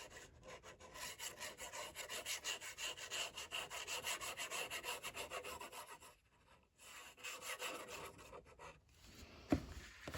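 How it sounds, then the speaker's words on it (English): A bone folder rubs and presses along creased paper flaps in quick, rhythmic scraping strokes, close and fairly quiet, pausing briefly before a final sharp tap. "And also use your bone folder, inside and outside, and then the same thing on the other flap."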